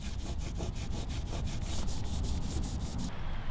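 Goof Off cleaner is rubbed onto an aluminum end panel with quick back-and-forth scrubbing strokes, a close, rhythmic rasping that stops abruptly near the end.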